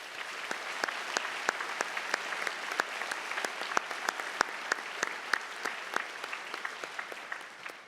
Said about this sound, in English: And I think that deserves a huge round of applause